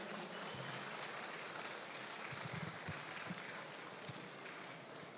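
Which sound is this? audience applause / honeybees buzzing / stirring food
audience applause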